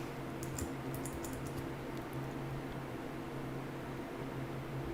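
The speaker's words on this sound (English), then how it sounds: "I wonder if you hear the fans in the background" Computer fans running hard in the background, a steady broadband whir with low hum tones throughout, accompanied by faint intermittent clicking early on.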